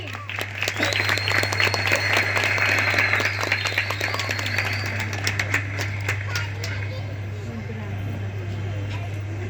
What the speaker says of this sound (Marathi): टाळ्या होऊन जाऊ दे की